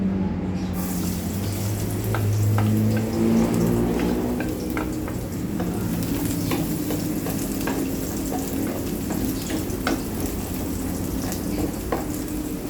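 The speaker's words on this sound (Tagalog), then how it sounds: "Lagay lang tayo kunting mantika. Lagay na rin tayo ng bawang." Garlic sizzles in a little hot cooking oil for chicken hamonado, a steady close frying crackle with scattered sharp pops and light stirring clinks throughout.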